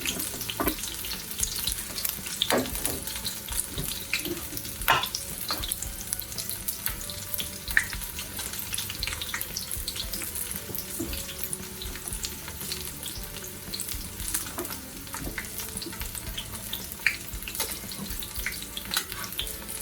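Green tomato fritters fry in hot oil, three at a time in the pan, giving a dense, steady crackling sizzle with frequent small pops close by for a long stretch.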